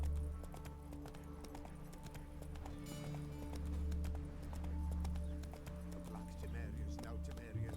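Hoofbeats of Geralt's horse Roach clip-clop at a steady galloping rhythm in The Witcher 3, mixed under game music and people talking.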